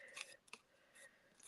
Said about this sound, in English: Let's just cut that bit out there.